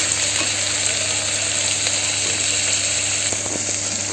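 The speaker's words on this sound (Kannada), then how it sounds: "ಇವಾಗ ಎಣ್ಣೆಯಲ್ಲಿ ರೋಸ್ಟ್ ಆಗಿದೆ ಕ್ಯಾರೆಟ್ ಮತ್ತು ಬೀನ್ಸು" Carrots and beans fry in oil for veg pulao, a constant close sizzle and crackle running evenly for a few seconds with no talking.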